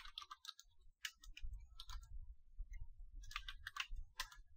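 Quick bursts of keystrokes on a computer keyboard as a command is typed, soft and close, with short pauses between clusters of clicks.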